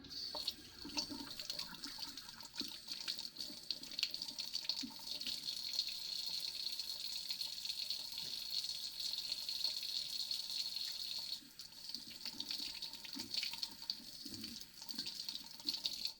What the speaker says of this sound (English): I am going to wash my hands because egg is very messy, so you will hear a bit of water going on.